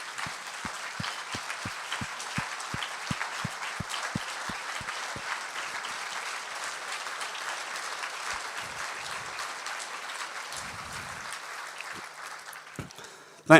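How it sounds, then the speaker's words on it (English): Sustained applause from an audience at a livestock auctioneer championship awards ceremony, dense clapping from a large crowd filling the room, with a few sharp individual claps early on, fading near the end. "Let's give Mark just a huge round of applause."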